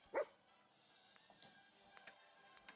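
A single short bark from the companion dog Dogmeat in the video game Fallout 4, loud and close at the start, followed by faint scattered game sounds and quiet background.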